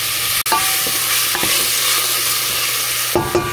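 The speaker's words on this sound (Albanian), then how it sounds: "Shtojmë të qepa një lukë qaj kripa e bëjnë qepën të zbutet më shpet" Onions with salt sizzling steadily in a hot pan for a turli with okra, a constant close frying hiss with a few brief scrapes and stirs of a utensil against the pan.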